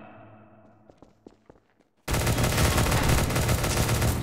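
Heavy gunfire from the video game Gmod kicks in abruptly and loud after a stretch of quiet clicks and taps, forming a dense, sustained barrage of rapid shots.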